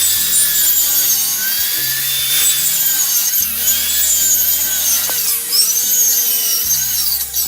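A power saw cuts a 1.5-inch-deep notch into a wooden rafter while repairing snow damage on an off-grid tiny house, giving a loud, steady, high whining buzz of blade through wood that holds nearly throughout.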